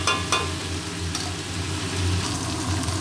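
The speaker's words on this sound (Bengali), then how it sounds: "এটা ভালো করে কষাবো মাছের মুড়োটা" A fish head fried and stirred in a pan, giving a steady, dense sizzle with scraping stir noises throughout, close and moderately loud, with no talking.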